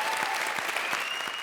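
A studio audience on the TV comedy show Comedy Circus breaks into dense, continuous applause. The clapping is loud and full throughout, with faint voices beneath it.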